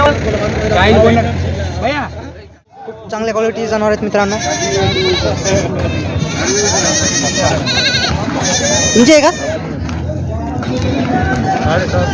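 Osmanabadi goats bleating at a busy goat market, repeated loud nearby bleats and calls over crowd noise and people talking, with a brief drop near the middle.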